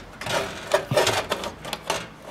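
A motherboard being lifted out of a PC case gives a short burst of close clicks, taps and scraping knocks of hardware in irregular rhythm, with no talking.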